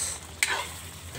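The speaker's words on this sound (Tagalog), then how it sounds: "Halo-haloin lang natin." Sisig frying in a pan over a wood fire is stirred, giving a brief scrape and clack over a soft steady sizzle, close and short.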